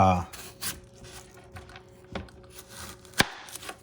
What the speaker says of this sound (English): So what I do is I cut them in slice to the width that I want.